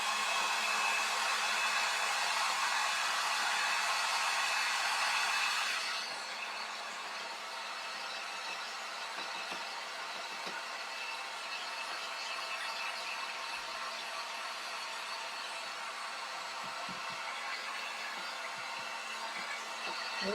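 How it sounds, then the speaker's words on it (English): A heat gun blows a steady, loud broadband rush for about six seconds while drying chalk paint paste on a screen, then cuts off to a quiet room hum. "So I'm just going to use my heat gun,"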